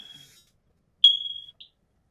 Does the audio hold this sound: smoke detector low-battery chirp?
yes